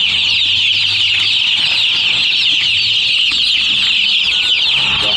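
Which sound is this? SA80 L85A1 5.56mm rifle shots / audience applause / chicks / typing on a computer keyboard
chicks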